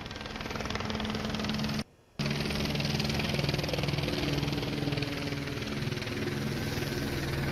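A helicopter hovers over an emergency scene at a Kaiser hospital, its steady engine drone and rotor thrum loud and continuous, with one brief drop-out partway through.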